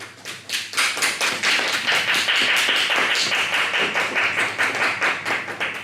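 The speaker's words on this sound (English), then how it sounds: "just give a round of applause" Sustained audience applause at a UWISON striping and awards ceremony, a dense, steady wash of many hands clapping close by that carries evenly for about six seconds with no talking.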